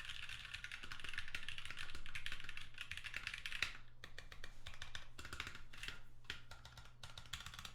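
Typing on a GH60 budget mechanical keyboard: a dense, continuous run of crisp, clacky keystrokes, close and fairly loud, with brief pauses and a few heavier presses toward the end.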